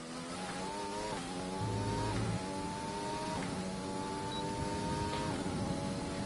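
A Formula 1 race car engine in a video game lap of the Bahrain circuit, a steady high-pitched whine rising and stepping through repeated gear changes, loud and continuous with no talk.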